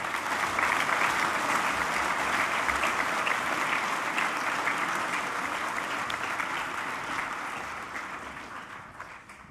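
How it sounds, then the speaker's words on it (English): An assembly audience at a school graduation applauds a group of graduating boys, a steady wash of many hands clapping that slowly fades out over nine seconds. "Can you please give these boys a round of applause?"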